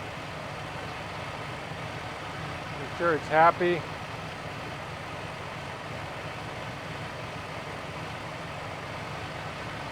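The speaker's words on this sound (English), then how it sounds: "So we're just gonna let the engine warm up." A newly installed car engine idles steadily as it warms up, with a low continuous hum running throughout; a person speaks briefly over it partway through.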